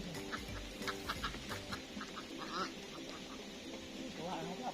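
Ducks quack on a farm during egg collecting, with repeated nasal calls scattered across the scene over a low background, along with chickens clucking and a person talking nearby.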